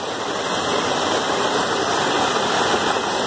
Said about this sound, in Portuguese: Estamos na cachoeira.